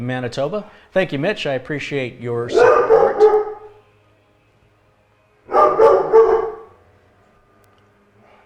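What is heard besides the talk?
dogs barking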